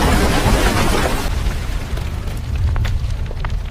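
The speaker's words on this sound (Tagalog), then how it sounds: "Nagdulot ito ng malakas na pagsabog kung saan natabunan silang lahat ng rumaragasang lupa pababa ng burol." Bombs detonating in a large explosion that sets off a landslide: a loud, close, sustained roaring blast that fades into a heavy rumble of tumbling earth and debris.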